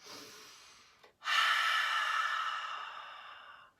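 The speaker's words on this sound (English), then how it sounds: "with the exhale we make the sound from our throat as if we are breathing into a mirror" A short breath, then a long, steady ujjayi yoga exhale through the throat with the mouth closed, hissing softly and fading slowly over a few seconds, close and alone.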